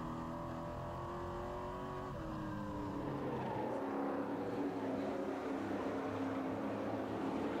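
Race trucks from a Northwest Tour event roaring around Meridian Speedway, a loud sustained engine drone with rising and falling pitch as several trucks pass at speed.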